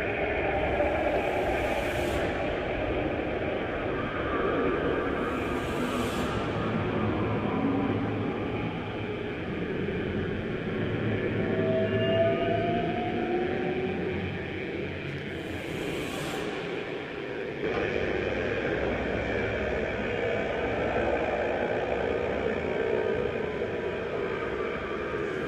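A synthesized texture generated in Ableton Live from video RGB values via Max for Live: a continuous, noisy drone with shifting tones and occasional bright hissy bursts, steady and unaccompanied by voices.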